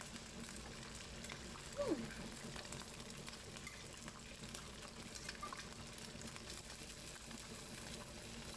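Quiet, steady sizzling of tuna frying in shallow oil, a continuous soft crackle with one brief clink partway through.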